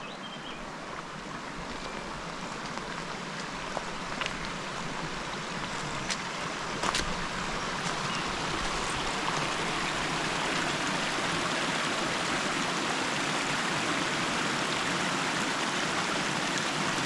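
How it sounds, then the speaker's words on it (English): Steady broadband rush of a small river flowing along a coastal walking trail, constant and fairly close throughout, with no voices. "A pretty little river."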